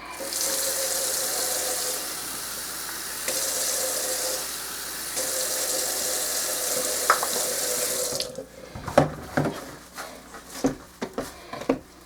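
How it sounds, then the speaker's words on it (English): Kitchen tap running into a sink while a measuring cup is rinsed out, a steady hissing water stream for about eight seconds, then the flow stops and scattered drips, clinks and handling knocks follow. "we'll keep washing out our measuring cup"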